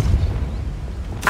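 A Depulso force spell cast in the Hogwarts Legacy video game: a low rumbling game ambience under a sudden bright whooshing burst near the end, short and fairly loud.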